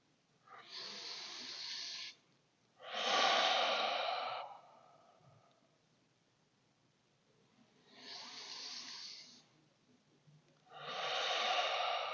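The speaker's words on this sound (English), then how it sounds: "In through our nose, out through our mouth for 3 breaths." Four slow breathing cycles during a yoga class on a dock, each breath drawn in through the nose and let out through the mouth, audible and close with short quiet pauses between, no talking.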